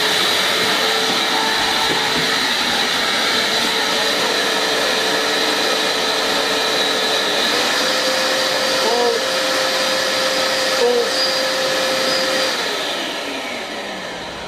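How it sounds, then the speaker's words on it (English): A blower runs on one motor at half speed, its slowest setting, giving a loud steady whooshing whine with a constant tone, then easing off toward the end. "Right, half speed, one motor, so this will be the slowest."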